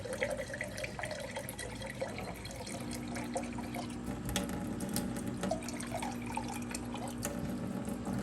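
Water poured off a jar of settling tomato seeds, a steady trickling, splashing flow running continuously at close range with small drips and clinks.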